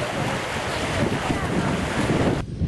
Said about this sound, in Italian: Le raffiche di vento, come potete vedere, sono fortissime